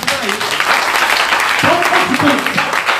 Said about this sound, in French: Oh, Acclame Jésus